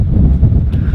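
Wind gusts pick up ahead of a thunderstorm at an overnight hammock campsite, a loud low buffeting rumble hitting the microphone continuously for a brief moment.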